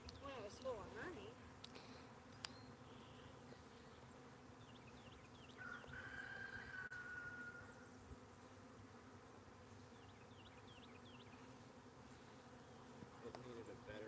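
Bees buzz steadily around a beehive outdoors, a continuous mid-level hum with a few brief louder passes close by and faint background noise throughout.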